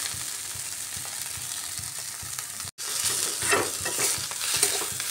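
Small shrimp, ground and broken up, frying and being stirred in a pan: a steady close sizzle with repeated scraping strokes, a brief break, then louder crackling and stirring.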